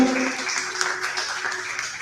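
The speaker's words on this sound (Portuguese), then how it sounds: "As palmas podem louvar a Jesus pela sua palavra." A church congregation applauding during an evening service, a soft, diffuse wash of clapping heard from a distance and fairly faint, with a sustained tone beneath it at the start.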